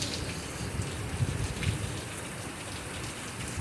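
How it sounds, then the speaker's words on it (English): Steady rain falls outdoors after a long drought, pattering on the ground and dry grass in a continuous, even hiss with scattered nearby drops, no voices. "Yeah, I just enjoy looking at this rain."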